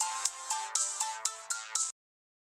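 A phone ringtone plays a short repeating electronic pattern, about six quick pulses in under two seconds, then cuts off into silence.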